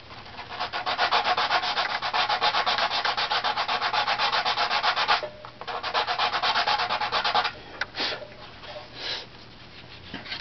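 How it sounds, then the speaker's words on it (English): Sandpaper rubbed back and forth across a wooden top plate strip being tuned, a steady loud rhythmic scrubbing that runs for about five seconds, pauses briefly, resumes, then tapers into a few lighter strokes. "bring a little sandpaper through here"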